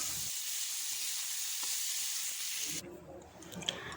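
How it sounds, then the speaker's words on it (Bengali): Chicken pieces fry in hot oil in a pan for homemade chicken chow mein, giving a steady, quiet sizzle and hiss that drops off abruptly near the end as they come out of the pan. "তো এখন আমি দেখো ভালো করে ভেজে তুলে নিচ্ছি।"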